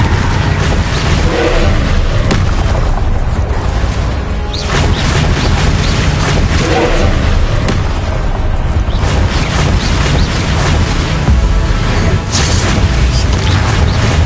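Confringo fire spells in the Hogwarts Legacy video game burst in loud, dense explosions, continuous booming blasts and crashes layered over game effects.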